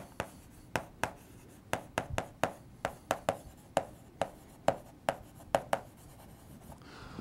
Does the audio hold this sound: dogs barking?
no